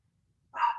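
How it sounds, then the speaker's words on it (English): A single sharp dog bark, loud and close, bursting out after a moment of near silence and ringing briefly before cutting off. "Oh, I'm sorry, my dog."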